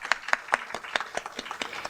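Applause from an audience at the Sci-Edu Awards 2024 event: a run of sharp, separate claps, about ten in two seconds, fairly close and not dense, with no voices over them.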